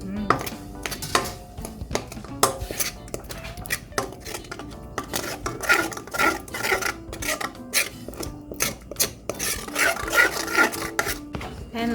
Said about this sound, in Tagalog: And then we'll mix the sago with the caramelized